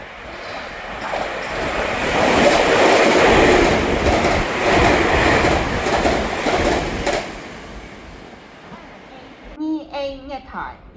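A Taiwan Railway train pulls in at Zhongzhou station, its rolling rumble and wheel clatter swelling loud and close before fading, and a Mandarin platform announcement follows at the end.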